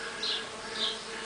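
Brazilian stingless bees, melipona and trigona, hum in a soft, continuous drone, faint and close, with a couple of brief swells as individual insects pass near.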